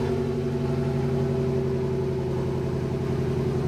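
A Mk1 Ford Fiesta engine idles steadily with a deep, even rumble and a low, throaty tone from a downpipe-only exhaust, running continuously without revving.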